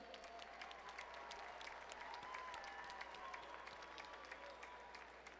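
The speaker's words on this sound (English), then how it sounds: "how about a round of applause for these two combatants here tonight?" Applause from the crowd at a cage-fighting event for two combatants after a bout, steady clapping with some crowd noise, fairly distant and soft, continuing for several seconds.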